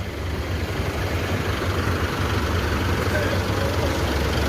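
A bus idles at a busy bus terminal, with a continuous, heavy, low engine rumble mixed with broad background noise. It stays steady and loud throughout.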